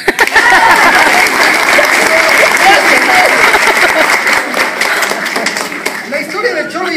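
Loud, dense applause from a theatre audience at a stage play, with sustained clapping and some voices mixed in, carrying on for several seconds before thinning toward the end.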